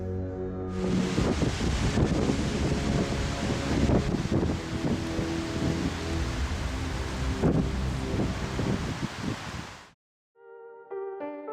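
Strong wind sweeps across a mown field in a loud, steady roar of gusty rushing noise close to the microphone. It cuts off abruptly near the end.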